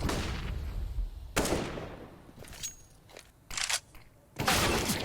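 Gunfire rings out in a Counter-Strike match between G2 and Vitality on the Anubis map, sharp single shots and short bursts with gaps between them, mid-distance, under no commentary in this stretch.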